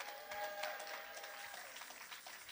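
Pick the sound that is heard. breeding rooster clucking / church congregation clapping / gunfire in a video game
church congregation clapping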